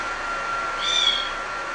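A 2.5-month-old kitten, injured after being hit by a car in Bursa, gives one faint, thin meow partly buried under steady background noise.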